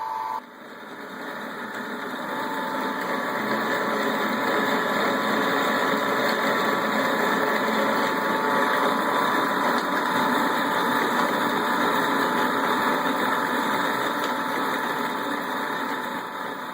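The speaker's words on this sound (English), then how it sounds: "it's time to crush the grain. Monster mill, the electric motor." An electric motor drives a Monster Mill grain mill crushing malt for home brewing, making a steady, loud whirring grind that starts abruptly and runs unbroken throughout.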